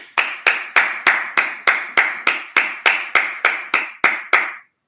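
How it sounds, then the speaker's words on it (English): About fourteen sharp claps in a steady, even rhythm during a religious Sabbath service, each ringing out briefly before the next, close and loud with no voices. "Clap it up."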